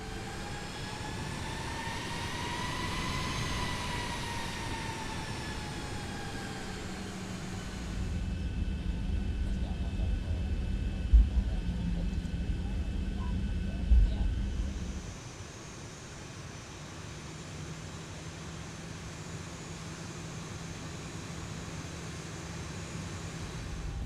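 Airliner engines in X-Plane 11 taxiing toward runway 26 left at Key West, a steady droning whine with a rising and falling tone, then deeper low rumble with a couple of soft thumps before settling to an even hum.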